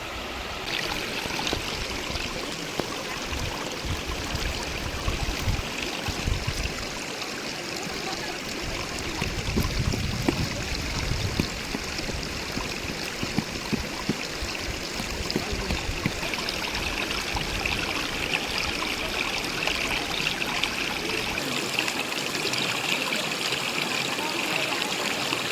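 A river in the Konkan region flows with a steady, close, continuous rush and trickle that never stops or changes much.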